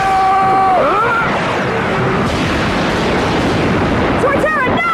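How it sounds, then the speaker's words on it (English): Pin Missile attack explosions in a Pokemon anime battle, a dense rumbling barrage of bursts that sustains across the clip, loud, with voices and creature cries over it. "After an overwhelming pin missile attack like that, what's happened to Torterra?"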